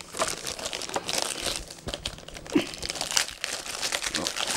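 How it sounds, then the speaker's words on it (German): Protective plastic film is peeled and crinkled off a white Samsung C32F391 32-inch curved monitor, giving close, irregular crackles and rustles with a few sharper tearing bursts. "Unten können wir die Folie abmachen."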